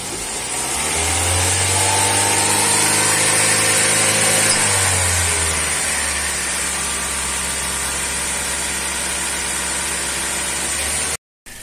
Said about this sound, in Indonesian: Kita panaskan mesin selama 15 menit ya.